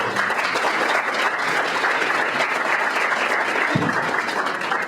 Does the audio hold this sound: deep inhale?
no